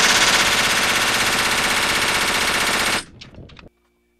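An FN P90 blowback submachine gun fires one long, loud, continuous burst of rapid shots lasting about three seconds, followed by a few faint clatters and then silence.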